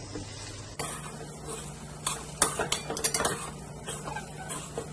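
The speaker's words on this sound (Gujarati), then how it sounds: "તેમાં જરૂર પ્રમાણે મીઠું, મરચું, હળદર અને ખાંડ નાખીને બરાબર મિક્સ કરી દેવાનું" Salt, chilli, turmeric and sugar being mixed in a pan: a quiet hum, then a run of scraping spoon strokes and metallic clinks against the pan over a faint sizzle, close and without speech.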